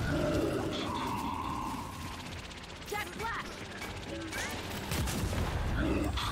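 Gunfire from a Gears 5 campaign firefight rattles through a dense, noisy mix of mechanical clatter and bursts, with scattered louder shots near the start and end and voices in the background.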